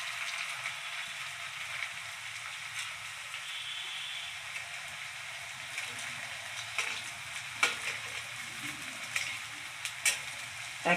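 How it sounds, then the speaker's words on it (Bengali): Square pitha fries in a pan over low gas, giving a soft, steady sizzle with occasional light clicks and taps from turning, faint and close, with no talking. "লাল লাল করে ভাজবো, একটু উল্টিয়ে নেব।"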